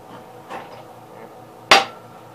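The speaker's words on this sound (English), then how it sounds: "Hitting on a piece of steel on the back here." A hammer strikes a piece of steel while a spindle shaft is changed on a 1987 Gravely 12G: a soft knock, then one loud, sharp, ringing metallic hit close by.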